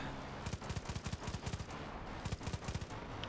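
Gunfire in the multiplayer shooter Far Cry 5: rapid bursts of automatic fire in quick clusters, several volleys separated by short pauses, fairly close and moderately loud with no talk.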